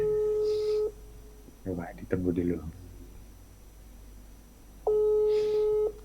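Telephone ringback tone heard while placing a call: two long, steady electronic tones about four seconds apart, with a short stretch of nearby talking in the gap between them.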